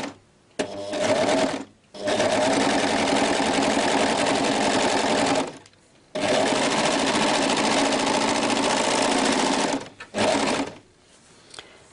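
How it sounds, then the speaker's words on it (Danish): A sewing machine stitches the shoulder seam of a girl's dress in three long, loud bursts of rapid mechanical whirring, with short quiet pauses between them. "Så har vi syet den ene skuldersøm"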